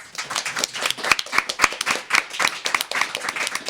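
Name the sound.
audience applause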